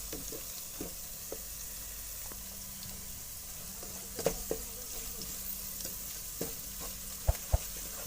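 Spice masala frying in a pot for masoor dal, with a quiet steady sizzle and occasional light stirring taps, a couple of louder knocks near the end.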